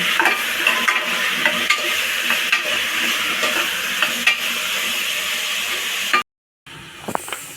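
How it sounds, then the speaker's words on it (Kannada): Brinjal frying in a pan makes a loud, continuous hiss and sizzle, with scraping stirs now and then. The sound cuts out to near silence for a moment near the end, then comes back with a few clicks. "ಇವಾಗ ಬದನೆಕಾಯಿ ಹಾಕ್ತಾಯಿದ್ದೀನಿ ಇವಾಗ ಫ್ರೈ ಆಗ್ಬೇಕಿದೆ ಒಂದು ಐದಾರು ನಿಮಿಷ"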